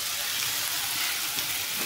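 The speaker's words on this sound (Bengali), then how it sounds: "এদিকে দেখো এই যে উচ্ছে আলু ভাজা" Sliced bitter gourd and potato fry in a pan with a steady, close, even sizzle of hot oil that runs unbroken for the whole moment, with no voices.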